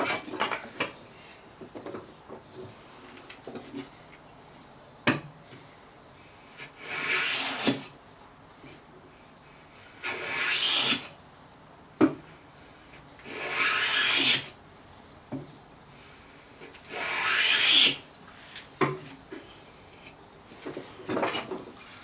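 A hand plane shoots the edges of cherry wood box sides in a run of separate strokes, each a loud, close rasping swish lasting about a second, with quieter handling knocks and pauses in between.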